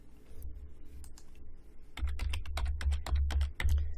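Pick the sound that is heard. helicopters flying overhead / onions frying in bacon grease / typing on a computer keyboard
typing on a computer keyboard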